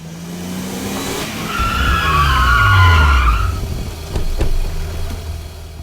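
A police jeep chases a black truck in a Hindi audio drama, with loud tire skidding and squealing swelling across the middle over a revving car engine, then fading to sharper bumps near the end; no talking.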